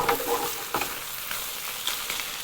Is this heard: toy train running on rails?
no